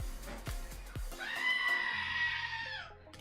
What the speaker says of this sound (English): Did they deserve the good goat noise though, Evan?